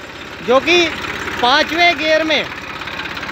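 A Massey Ferguson 241 tractor running on its PTO in fifth gear, driving a 3 horsepower submersible pump: a steady low engine drone with even rhythmic pulsing, close by, under someone speaking throughout.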